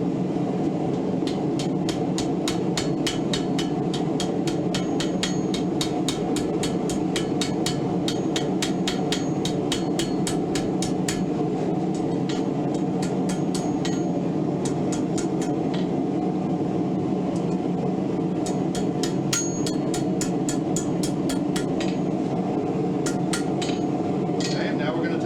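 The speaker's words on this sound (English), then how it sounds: "Lightweight hammer." Rapid, ringing blows of a lightweight hammer strike hot iron in quick bursts, with steady clinking rhythm over a low roaring hum like a forge blower.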